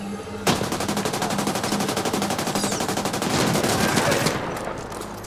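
Sustained rapid machine-gun fire in The Ascent, a steady fast stream of shots running for several seconds before tapering off, loud and close.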